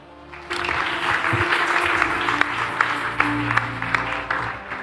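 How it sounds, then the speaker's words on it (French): Church congregation clapping in praise, a steady mass of applause that starts abruptly and carries on at moderate loudness, with a few voices and sharper claps standing out. "On acclame pour le Seigneur."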